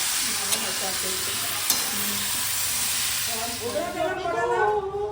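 A curry of carrots and tomato cooks in a pan with a continuous bright sizzling hiss and a couple of sharp clicks. Voices murmur softly underneath toward the end.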